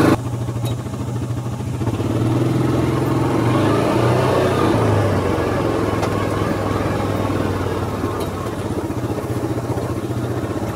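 A Yamaha Viking UTV heads off road down a steep gully in high-ratio two-wheel drive, its engine droning steadily under rattling, clattering chassis noise for the whole stretch.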